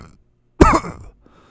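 A single sharp cough right into a close microphone, loud and abrupt, followed by a short throaty tail, with near silence before and after.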